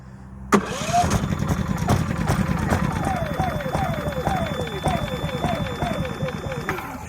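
Predator 5000 watt dual-fuel generator engine cranking from its remote start, a sudden onset followed by a rapid, repeated chugging of the starter turning over without catching, close and loud.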